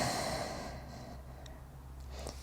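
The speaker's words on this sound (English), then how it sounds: "And exhale." A long, deep exhale during a postpartum core breathing exercise starts as a loud close rush of breath and slowly fades, ending with a faint snort-like puff near the end.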